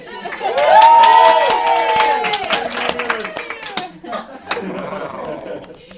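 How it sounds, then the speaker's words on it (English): A comedy storytelling audience cheers and claps, a loud burst of shouts and whoops that builds quickly, then settles into scattered clapping and voices close by. "Everybody cheer for Megan."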